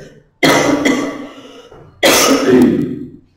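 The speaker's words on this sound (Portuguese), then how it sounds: "A tosse volta, né?" Two harsh, close coughs from one person, each a loud burst followed by a fading rasp, separated by about a second and a half of quiet.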